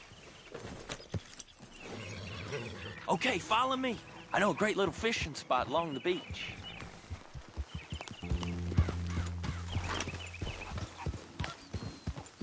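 Horse hooves clip-clop at a steady walking pace in Red Dead Redemption 2 while someone talks over them, with a brief snort near the start and a low musical drone later.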